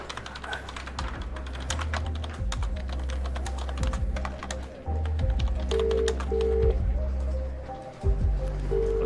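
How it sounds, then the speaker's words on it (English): Fast, steady typing on a computer keyboard in a police office, with dense clicking keystrokes throughout and brief pauses, close and fairly loud over a low background hum. "I'm sat here typing up a statement"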